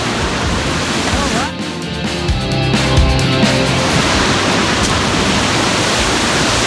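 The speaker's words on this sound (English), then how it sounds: "This is the waterfalls." Vernal Falls in Yosemite roars continuously nearby, a dense, loud rush of falling water that fills the whole scene.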